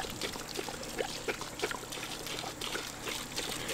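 Water pours and trickles steadily into a livestock drinking trough on a homestead farm, a continuous splashing stream with small bubbling bursts, fairly close and alone.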